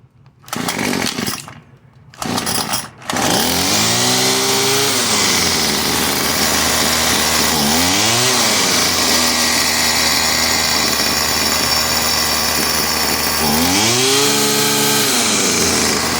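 A Craftsman WS210 two-stroke string trimmer runs loud and steady, its pitch rising and falling in several bogging revs from a carburetor needing adjustment, after a few sharp sputtering starts.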